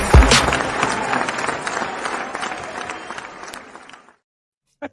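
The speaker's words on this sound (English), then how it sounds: "The crowd is going wild." Crowd at a live retro gaming arcade show cheers and claps loudly for a home arcade guest, a dense burst of applause that slowly fades before cutting off, with one last faint clap at the end.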